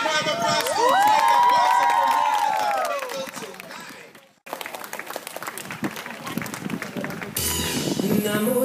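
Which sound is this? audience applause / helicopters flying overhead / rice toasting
audience applause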